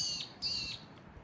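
Two short, high peewee calls a fraction of a second apart, thin and whistled, over faint background hiss.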